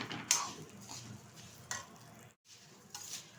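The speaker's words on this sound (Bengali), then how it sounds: "চালটা কিন্তু ভালোভাবে ভেজে নেব।" Gobindobhog rice fries in a pan for pulao, giving a soft, steady sizzle broken by a few scraping stirs of a spoon against the pan, close and moderately quiet.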